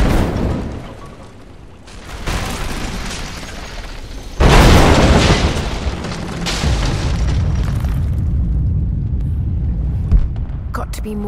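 A Greek fire vessel explodes in Rise of the Tomb Raider, a loud sudden boom followed by a long rumbling roar and debris crashing over game music.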